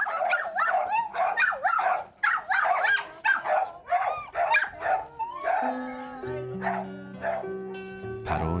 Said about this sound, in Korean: 그런데 갑자기 짖기 시작하는 개들